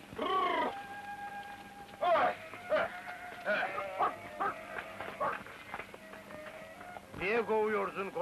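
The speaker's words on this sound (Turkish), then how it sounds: "Niye kovuyorsun koyunları?" Sheep bleat again and again as they are driven off a field in a Turkish film scene, loud, wavering cries coming in bursts with shouting voices mixed among them.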